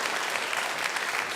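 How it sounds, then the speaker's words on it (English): Steady, even applause from a church congregation at a Sunday service, a dense wash of many hands clapping, moderately distant and unbroken throughout. "Please give a round of applause to Earl Hauserman"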